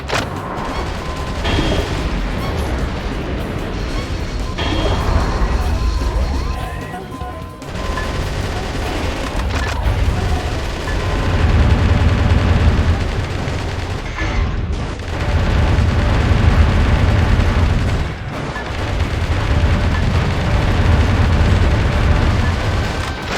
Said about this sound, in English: A lot of the sounds in this game are either uncomfortably loud or really muffled, especially the guns and explosions